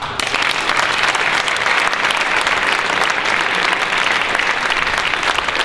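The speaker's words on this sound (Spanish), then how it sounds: "Recibámosla con un aplauso." An audience at a tribute event gives sustained, loud applause, a dense even roar of many hands clapping at once that continues steadily from start to finish.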